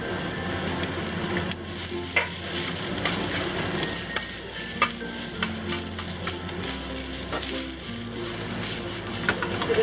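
Cabbage stir-fries with ginger and garlic in a hot pan for Mu Shu chicken: a dense, continuous sizzle with frequent sharp scrapes and clanks of tossing and stirring, and no talk.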